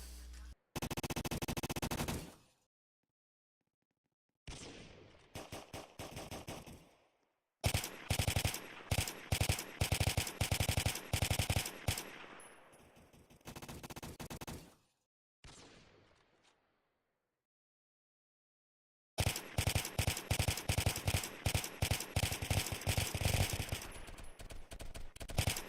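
Rapid automatic gunfire in the Roblox-style shooter Phantom Forces, fired through a sign on a baseplate map, comes in loud repeated bursts separated by short silences, with a long sustained volley near the end.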